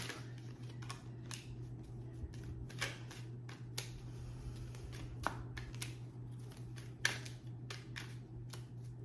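Tarot cards being shuffled by hand, a run of soft riffling clicks and sharp snaps up close over a steady low electrical hum, with no talking.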